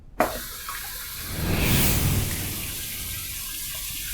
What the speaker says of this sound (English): So we're going to do our final rinse routine, a warm water rinse, a cold water rinse